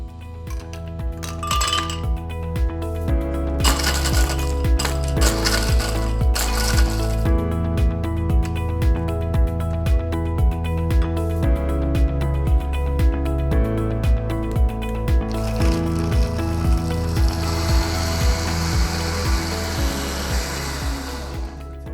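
An Amica BTM 5012 blender with a stainless steel housing crushes ice, its motor running steadily and loudly under a continuous rattle of clinking ice, with no voices present.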